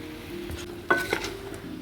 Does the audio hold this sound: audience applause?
no